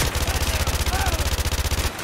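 Rapid automatic gunfire from the shooter game Call of Duty Modern Warfare 2 Remastered, a loud, evenly spaced burst of shots that runs for about two seconds and then stops.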